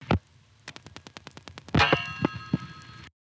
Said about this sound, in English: Every time you dial a digit, there's a relay clang when the dial returns to rest.